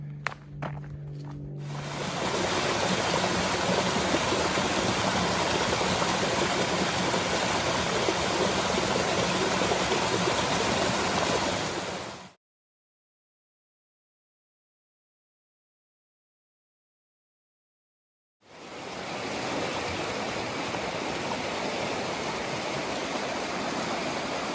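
Deep Creek in the Great Smoky Mountains rushes steadily as a broad, loud wash of flowing creek water, cutting out completely for several seconds midway before resuming.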